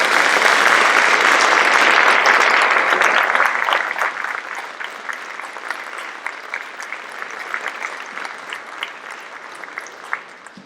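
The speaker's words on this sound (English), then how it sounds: "please rise for a much-deserved round of applause" Audience at a school language awards ceremony applauding standing educators, loud dense clapping that peaks early, then thins into scattered individual claps as it fades.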